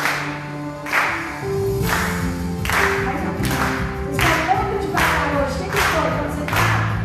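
A worship congregation claps in a steady, regular rhythm, with repeated beats spaced about a second apart over a sustained musical backdrop of singing and instruments.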